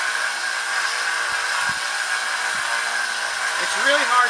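A sword blade is ground slowly on a belt grinder with an 80 grit belt, making a continuous, even abrasive whir at moderate level, with a faint voice near the end.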